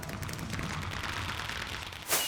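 Fireworks going off in a Minecraft modpack, a continuous crackling barrage of rapid pops and bursts that runs steadily throughout, with a brighter sharp crack near the end.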